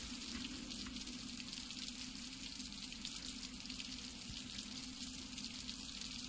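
Water rising in the video game Eternal Enemies, a steady broadband rushing and fizzing wash that continues unbroken and fairly quiet throughout.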